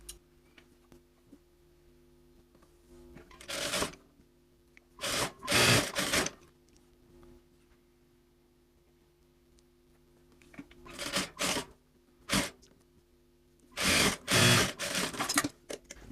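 A sewing machine stitches the back piece of a below-knee women's dress to its front side panels, running in several short, close rattling bursts separated by quiet pauses.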